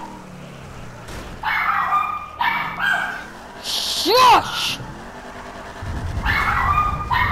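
A dog yips and barks in short bursts, mixed with a whining, rising yelp, while a person speaks nearby in a hushing tone.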